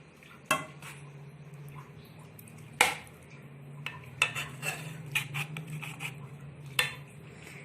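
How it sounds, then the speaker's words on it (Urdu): Boiled eggs are cut into layered egg and chickpea biryani rice with a metal utensil, giving several sharp clinks and scrapes against the pot over a low background hum, with no talking. "پھر ہم ڈالیں گے مسالہ اور انڈے کو اس ٹائم تھوڑا سا کاٹیں گے"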